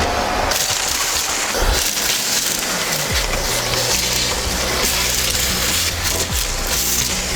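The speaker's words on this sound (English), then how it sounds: "you have to clean all the glass out from the old broken window" Broken window glass being cleaned out of a Toyota Supra interior, with loud, continuous crunching and scraping of glass fragments, sharp clinks and cracks scattered throughout, close to the ear with no talking.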